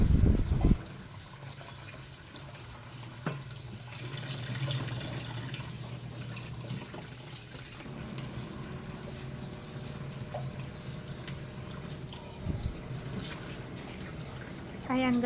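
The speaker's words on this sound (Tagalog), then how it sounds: "Hugasan mabuti ang isda para hindi malansa." Tap water runs into a sink while fish is washed under it, a steady splashing flow with occasional clunks and handling noises, fairly faint and close.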